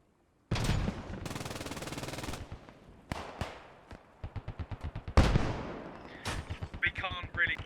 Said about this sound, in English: you can see the 50 cal firing straight down the street. You can hear the bullets ricocheting off the brick, the pavement, the metal, the trees